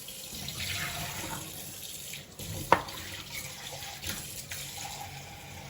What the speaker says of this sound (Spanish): primero lo voy a enjuagar un poquito, para quitarle un poquitito de sal nomás